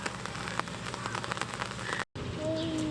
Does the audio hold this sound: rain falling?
yes